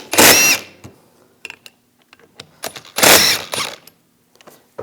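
A 12mm socket ratchet loosening rear brake caliper bracket bolts on a 2015-2022 Chevrolet Colorado: two loud rasping bursts of ratcheting, separated by scattered close clicks and knocks.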